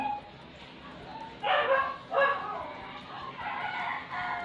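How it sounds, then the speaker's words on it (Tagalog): A dog barks a few times at a moderate distance, sharp yaps standing out over a quiet outdoor hum. "Napakaingay ng aso dito sa aming kapitbahay."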